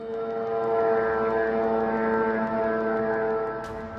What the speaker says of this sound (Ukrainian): Настирливе дзищання дронів у румунському прикордонні.